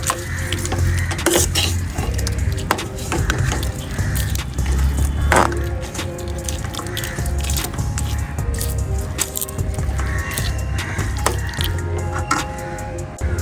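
Chicken thoran with mustard seeds is stirred in a pan, a steady run of spoon scrapes and clinks against metal, close and continuous, with a low hum underneath.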